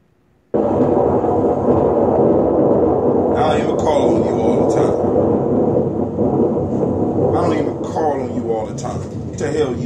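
Loud, continuous rumbling thunder rolls in suddenly and holds for several seconds with heavy broadband roar, while faint voices seem to surface partway through.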